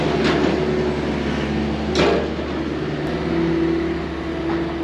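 A telehandler moves and stacks straw bales, its engine holding a steady mid-distance drone with a couple of sharp clunks as it works.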